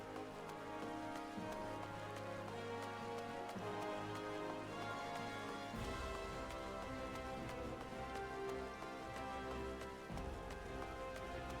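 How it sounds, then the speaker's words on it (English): Rain falls on the desert in Final Fantasy XIV, a steady, even patter that carries on without a break under continuous background game music. "it is raining in the desert"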